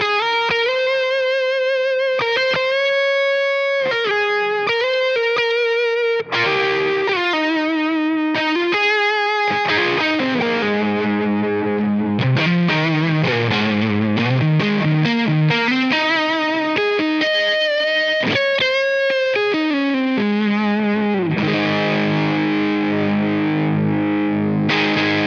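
Electric guitar lead played through an OB1 boost pedal, a distorted singing tone with long sustained notes and melodic runs, loud and continuous with no talking.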